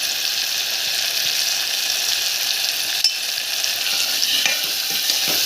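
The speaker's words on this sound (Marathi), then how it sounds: "पाच मिनिट छान मसाला फ्राय करायचा आणि त्यामध्ये हळद चवीनुसार मिरची पावडर" Masala with turmeric and chili powder fries in oil for a crab gravy. It gives a continuous close sizzle with light stirring and one sharp clink of a utensil midway.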